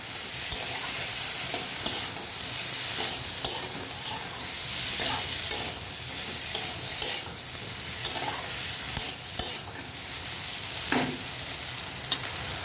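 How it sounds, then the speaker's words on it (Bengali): Pointed gourd stir-fried with spice paste in a pan, a continuous soft sizzle broken by regular clinking stirring strokes of a spoon against the pan, close and moderately quiet. "পটলগুলো দিয়ে দিলাম। এবার ভালো করে কষাবো।"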